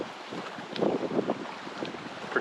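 Strong wind blowing outdoors near the bay, with a steady broadband rush and gusty swells rising and falling, close and moderately loud, with no voices.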